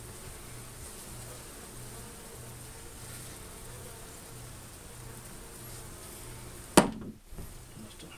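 Bees buzzing in a steady, faint drone throughout a hive removal at a rambler house, broken near the end by one sharp nearby knock or thud.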